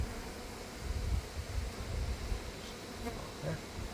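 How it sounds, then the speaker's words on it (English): Honey bees buzzing over an open fall hive during a frame inspection, a dense, steady hum with soft wind rustle, close and fairly quiet, with a few individual bees droning nearer. "Lots of baby bees running down."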